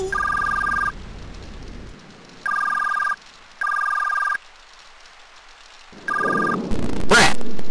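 A telephone bell rings in repeated bursts with short gaps, loud and close, followed by a noisy clatter at the end.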